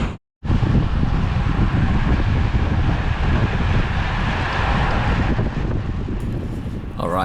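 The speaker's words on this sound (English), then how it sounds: "Incredibly windy today." Strong headwind buffeting the microphone during a bike ride, a dense, continuous roar of wind noise that runs loud and unbroken for several seconds after a brief quiet start.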